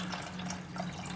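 Steady, close stream of tap water poured into a pot to make baklava syrup, a continuous hiss and trickle lasting the whole moment with no voices.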